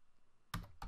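Computer keyboard typing, entering figures into a spreadsheet-style budgeting exam question: two short bursts of close, clattering keystrokes after a quiet lead-in.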